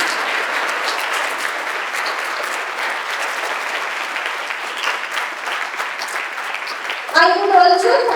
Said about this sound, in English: A big applause for Sumedha.